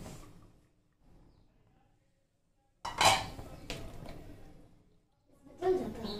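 A metal lid goes back onto a cooking pot of prawn malai curry simmering over low flame, giving a couple of sharp clanks and rattles between stretches of quiet kitchen sound.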